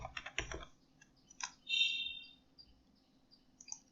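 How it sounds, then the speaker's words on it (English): Faint keys click on a computer keyboard in a few short, quick bursts of taps with gaps between them, close by in a quiet room. "so now I will type in here"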